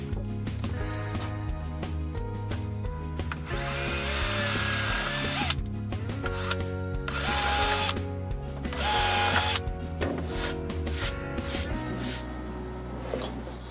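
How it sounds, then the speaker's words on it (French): A power drill bores screw holes into a wooden board for a drying rack, running in several loud whining bursts with pauses between, alongside mechanical clatter and no talking. "avec 3 endroits où je vais faire des trous pour passer les vis"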